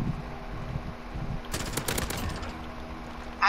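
A quick burst of video game gunfire rattles out in the middle, a rapid string of sharp shots over a quieter background.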